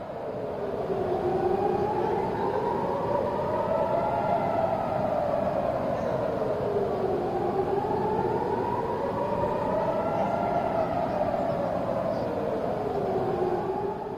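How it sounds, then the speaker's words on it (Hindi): A wailing air raid siren during a rocket attack in Israel rises and falls in slow, steady cycles, loud and continuous throughout with no other sounds over it. "आप सायरन की आवाज सुनिए।"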